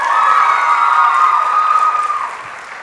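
Graduation audience at Higher Ground Academy's 2019 ceremony applauding and cheering, a loud sustained wash of clapping with shouts and children's voices that fades toward the end.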